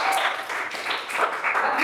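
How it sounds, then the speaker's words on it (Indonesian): A classroom group claps together for pupils during a religious studies lesson, a short burst of fairly close, lively applause that rises and dips throughout. "Tepuk tangan untuk kalian."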